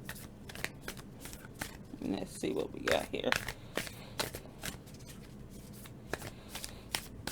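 Tarot cards are shuffled by hand up close in repeated quick riffles and soft slides, with a denser burst in the middle, while someone speaks quietly.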